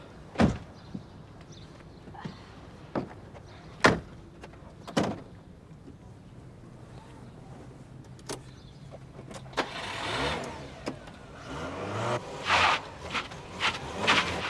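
Car engine losing compression, preceded by scattered sharp knocks and clunks like doors, then a labored rough engine starting and sputtering in uneven surges toward the end.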